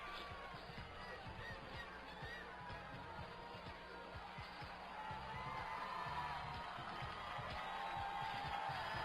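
A loud crowd cheers and roars continuously at the Mr. Olympia 2013 bodybuilding contest, dense and sustained and swelling louder toward the end.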